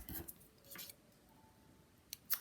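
Scissors cutting paper for a handmade card, a few quiet crisp snips in close, soft bursts separated by a near-silent pause.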